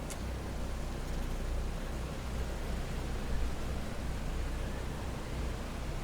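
Piston engine number 4 of a PMDG DC-6B airliner starting up in Microsoft Flight Simulator 2020, a steady broadband rumble with strong low drone and a brief high click at the start, constant and fairly loud with no voices.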